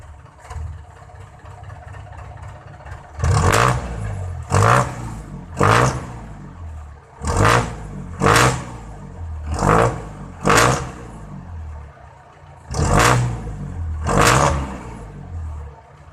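A jeep engine with a freshly carbon-cleaned muffler revs up repeatedly in loud, close bursts, about eight throttle blips rising over a steady idle with short pauses between them.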